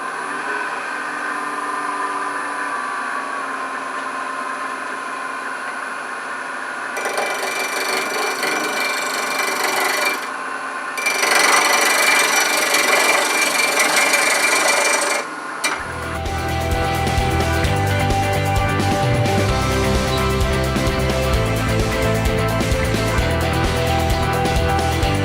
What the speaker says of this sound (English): I'm going to use this 3/8 inch bowl gouge, or 3/8 inch spindle gouge